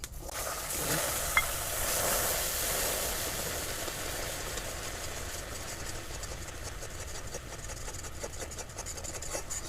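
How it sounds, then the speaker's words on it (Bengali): Milk stirred into melted butter in a hot pan while making caramel, a continuous soft sizzle with faint scraping of the spoon, steady and close throughout, no voices. "দুধটা দিয়ে এইভাবে অনবরত নাড়তে হবে।"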